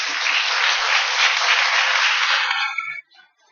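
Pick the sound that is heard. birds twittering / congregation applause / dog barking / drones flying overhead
congregation applause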